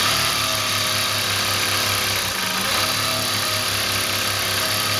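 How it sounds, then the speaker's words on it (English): A Juki sewing machine stitching a seam to its end, a continuous loud mechanical whir with a steady hum, running without pause and alone. "I'll sew all the way to the end here."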